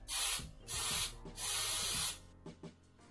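Black spray paint goes onto a green glass bottle for a second coat: three loud, close hissing bursts from the can, each about half a second to a second long, followed by a few quieter clicks.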